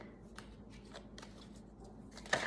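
A deck of cards being shuffled indoors, a soft riffle of quick flutters in short bursts ending with a sharper snap, faint and close with no talking.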